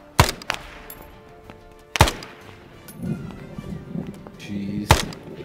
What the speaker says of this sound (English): They're mortaring the hell out of us up here.